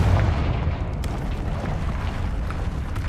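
A Confringo fire spell in the Hogwarts Legacy video game bursts into a loud, continuous fiery roar with a booming low rumble, sustained for several seconds without any voices.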